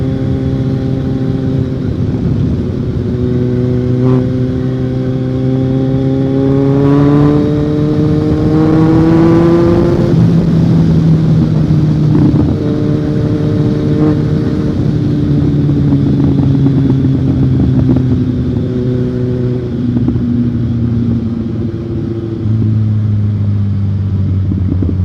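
Kawasaki Z1000 motorcycle at speed above 100 on a night road ride, its engine droning loud and steady close up, with pitch rising and falling through gear changes and throttle shifts the whole way.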